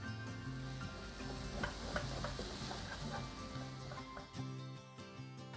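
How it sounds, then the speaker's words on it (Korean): Chopped scallion and garlic sautéed in melted butter alongside mushrooms, a soft, steady sizzle with light stirring clicks, fairly quiet and close. "버터를 녹이고 다진 파와 마늘을 볶아주세요"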